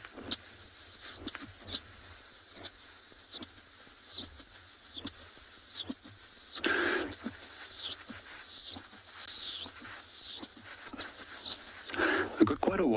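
A person repeatedly imitates a dwarf mongoose contact call with a string of high, breathy chirping whistles, close and steady over a hissy background.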